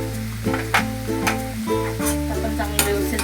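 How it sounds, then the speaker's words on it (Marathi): Prawns with seer fish and pomfret pieces sauté with turmeric, coriander powder and garam masala in a pan, giving a soft sizzle under a low steady hum, with several sharp scraping stirs at irregular intervals. "आपण चांगलं व्यवस्थित जरा परतून घेऊया."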